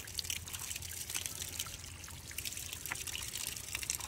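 Water trickles and dribbles from a traditional spout in a Nepalese village, a faint, steady splatter with no one speaking.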